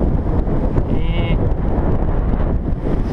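Steady wind rushing past the microphone during a summer bicycle ride in Inagi, Japan, a dense unbroken roar that stays loud and close for the whole stretch.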